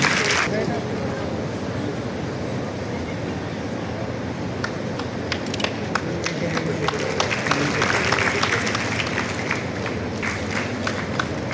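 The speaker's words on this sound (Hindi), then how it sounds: "तालियां बजती रहनी चाहिए।" A crowd claps steadily throughout, a dense wash of applause with some sharper individual claps standing out.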